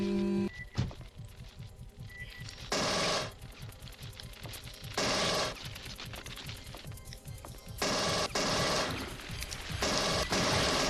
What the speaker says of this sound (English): And I'm gonna waste pulsar bullets.